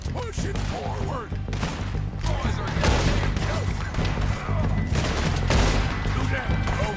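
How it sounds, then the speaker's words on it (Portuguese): Rapid bursts of gunfire crackle continuously in a Red Dead Redemption 2 mountain scene, loud and overlapping, with occasional heavier shots and a voice briefly speaking underneath. "o silêncio das montanhas desaparece em uma chuva de tiros"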